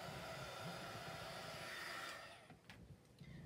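Heat tool blowing hot air onto ribbon craft, a steady close whooshing hiss that fades out near the end, with faint handling noises after.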